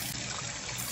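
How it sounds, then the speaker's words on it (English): Rinse water from washed brown rice pours off in a steady, continuous splashing trickle, close and fairly loud for a short moment. "And then you pour all that rice water off,"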